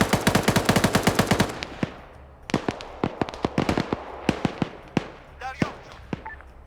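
Rapid bursts of automatic gunfire in a military video game, a fast string of close shots followed by scattered single and short-burst shots with distant pops, while a voice talks underneath.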